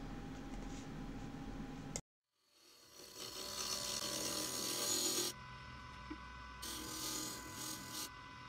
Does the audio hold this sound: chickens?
no